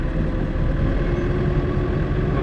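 A mowing machine's engine runs steadily at raised revs, a loud, constant low drone with no breaks and no talking over it.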